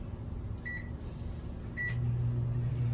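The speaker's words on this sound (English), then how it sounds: "Let me top that off really fast in the microwave there." A microwave oven heats butter for hollandaise sauce, two short beeps from its buttons, then the low steady hum of the oven starting up and running.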